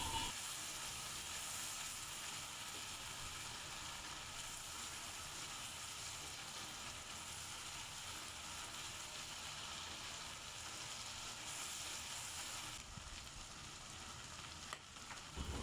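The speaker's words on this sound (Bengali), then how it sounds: "মশলাটাকে ভালোভাবে আমি কিছুক্ষণ কষিয়ে নেব।" Spice paste of turmeric, coriander and chili powder frying for pigeon curry, a continuous soft sizzle and hiss that stays steady throughout, fairly quiet, with no talking.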